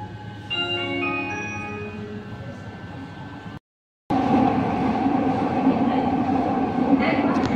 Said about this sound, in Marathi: मेट्रो चालू आहे